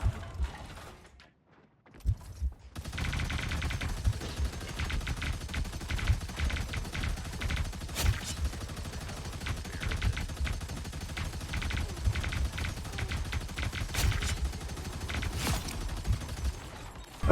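Rapid turret gunfire in the Marvel Rivals video game, a sustained mechanical stream of shots with sharper bursts, starting after a brief near-silent gap and continuing loud and dense to the end.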